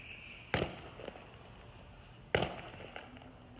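Fourth of July fireworks going off in the distance, two sharp faint bangs a couple of seconds apart with a soft crackle between, heard alone against quiet outdoor background.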